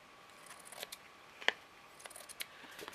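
Scissors snip through felt for a top hat: one sharp, close cut stands out among faint small clicks and rustles in a quiet room.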